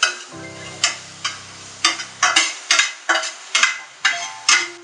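Onions sizzle and fry in a hot pan while a utensil stirs and scrapes in a quick, repeated rhythm.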